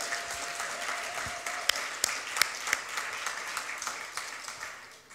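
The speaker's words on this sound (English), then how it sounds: "Big round of applause, Mr. Dave McCann, ladies and gentlemen." Applause from an audience at an arts community awards ceremony: a steady wash of many hands with a few sharp, close claps standing out, holding at moderate level throughout.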